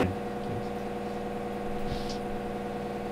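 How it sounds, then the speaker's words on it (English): A Rainman watermaker runs steadily aboard a sailboat, a faint, constant mechanical hum and whir with no breaks, heard from some distance in the background. "So you can hear the water maker running in the background"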